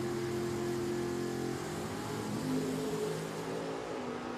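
A dragster and a Corvette at Richmond Dragway, heard as a steady roaring engine drone with rising and shifting pitch, loud and continuous with no talk.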